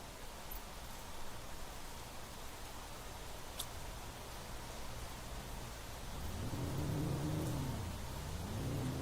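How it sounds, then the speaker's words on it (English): Loud, steady rain hisses without a break in the survival game The Planet Crafter, with a low rumbling surge swelling up near the end. "That rain is super loud."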